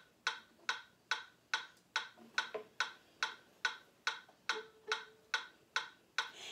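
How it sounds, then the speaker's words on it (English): A metronome clicks steadily at 142 beats per minute, crisp evenly spaced ticks sounding close and alone in a quiet room. "So I will put on the metronome so you can hear what that will sound like."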